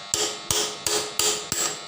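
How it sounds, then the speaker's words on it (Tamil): A hammer strikes a steel drift to knock a chuck off a drill, five sharp metallic blows at an even, unhurried pace, close and clear with no talk. "பாருங்கள் ட்ரிஃப்ட்டு மாட்டியாச்சு. அடிக்கிறோம்."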